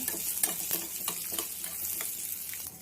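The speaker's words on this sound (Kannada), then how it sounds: "ದ್ರಾಕ್ಷಿ ಹಾಕ್ತಾ ಇದ್ದೀನಿ. ಸ್ವಲ್ಪ ಫ್ರೈ ಮಾಡ್ಕೊಳ್ಳಿ, ತುಂಬ ಟೇಸ್ಟ್ ಕೊಡುತ್ತೆ." Raisins fry in hot fat in a pan while making rava kheer, a steady close sizzle broken by several soft stirring scrapes and ticks against the pan, with no voices.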